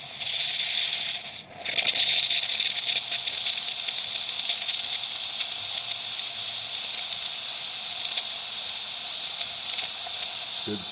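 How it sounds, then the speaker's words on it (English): A DeLonghi Magnifica XS espresso machine's steam wand runs in a loud, steady hiss close by, with a momentary dip early on and faint rattling underneath. "Let's go ahead and run the steamer."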